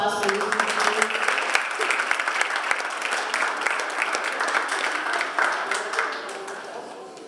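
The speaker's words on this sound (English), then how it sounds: "Can I have a round of applause, please?" An audience at a Cape Verdean Association Martin Luther King Day celebration claps steadily for several seconds; dense applause fills the room, then gradually thins toward the end.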